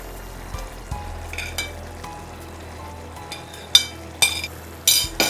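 Egg kheema being added and stirred into boiling masala gravy, with a low simmering sizzle broken by scattered clinks and scrapes of a spoon against the pan that grow sharper toward the end.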